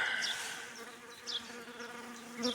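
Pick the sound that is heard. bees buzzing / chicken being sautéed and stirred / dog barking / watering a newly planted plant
bees buzzing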